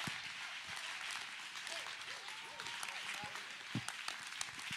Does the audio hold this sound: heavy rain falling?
no